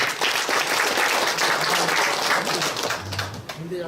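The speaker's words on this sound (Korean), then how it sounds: "관계자 여러분에게 뜨거운 박수를 한번 부탁드리겠습니다" Warm audience applause at a regional hometown association's year-end evening, a loud burst of many people clapping that tapers off toward the end while a voice begins to speak.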